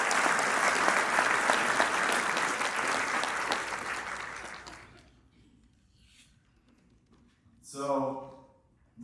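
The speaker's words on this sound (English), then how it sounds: "let's give a round of applause for everybody that serves us" Dense crowd applause at a financial company's conference fills the first five seconds loudly, then fades out, followed by a brief spoken voice near the end.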